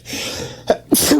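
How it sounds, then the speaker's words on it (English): A single person sneezes once, a brief intake of breath building into a sharp, close explosive burst at the end. "I'm going to sneeze."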